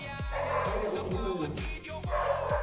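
Dog near an abandoned school barking in a quick run of repeated sharp yips and barks, fairly close, over a constant noisy background.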